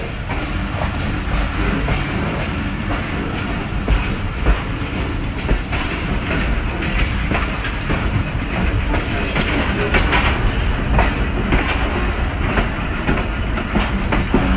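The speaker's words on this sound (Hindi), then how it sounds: "लूप लाइन पर कन्वर्ट हो चुकी है हमारी 12 टाउन हज़ारा एक्सप्रेस भलवाल रेलवे स्टेशन की।" The 12 Down Hazara Express running onto the loop line at Bhalwal station, a loud continuous roar of wheels on rails with steady clickety-clack and rattling carriages close by, no voices.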